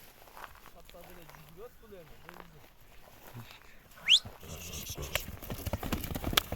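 A horse being walked back and forth outdoors in hot summer weather, with soft, faint hoof clip-clops under a man's speech and other background sounds.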